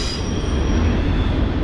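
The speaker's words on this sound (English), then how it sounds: "It's like the fourth BNSF locomotive I've seen. He's going slow." A slow-moving BNSF freight locomotive and its cars roll past close by, steel wheels squealing in a sustained high whine over a steady low rumble, with no voices.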